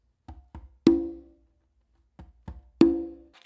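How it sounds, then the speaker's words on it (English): Congas played by hand in a funk groove: two soft ghost taps then a loud ringing open tone, the pattern repeated twice, close and alone. "And then what follows is going to be an open with your dominant hand on the conga."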